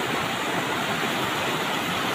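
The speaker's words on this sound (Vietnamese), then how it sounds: "ở đây là cái thác nước, tuy rằng nó không cao nhưng nó rất là dài nha mọi người" A long, low waterfall and flowing stream in the Central Highlands forest, a steady broadband rush of falling water heard close and continuous, with no voices.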